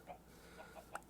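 Chickens in the Minecraft modpack Project Ozone 3 give a few faint, short clucks spaced across a second, quiet in the background.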